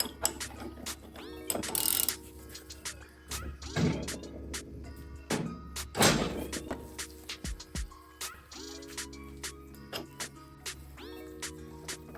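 A Motion Pro tool breaks loose the fork guide socket inside a 2019 Suzuki GSXR-750 fork held in a vise, giving repeated close metallic clicks, ratcheting and clanks, with several louder bursts and quieter tool handling between them.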